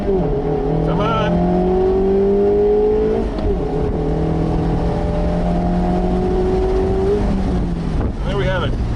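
A car accelerates hard on a timed run, the engine revving up in steady climbing pulls with a short pause at each gear change, loud and close, with a voice speaking over it.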